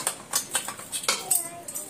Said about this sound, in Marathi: या रिंगवर आपण एक कुकरचं भांडं ठेवून देऊ।